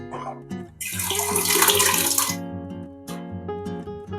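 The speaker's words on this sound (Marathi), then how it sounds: "आता मी थोडंसं वाटणात पाणी टाकून पातळ केले आणि आता हे मी याच्यात घालून घेते" Thinned masala paste for a Konkani chicken curry pours into a pan with a steady liquid splash, swelling into a loud gush for about a second and a half, then easing off. A tonal hum runs underneath throughout.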